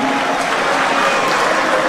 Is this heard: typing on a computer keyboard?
no